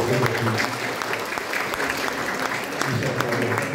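An audience at a book presentation applauds to welcome Prof. László Boros, a steady crackle of many clapping hands at moderate distance, while someone talks over part of it.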